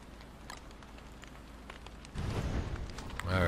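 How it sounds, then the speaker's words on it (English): A campfire in Don't Starve Together starts up with a soft crackling rush and grows louder toward the end, following faint scattered ticks and background ambience. "time to build a campfire"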